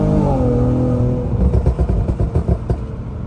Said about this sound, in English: we about to give a little throttle for them boys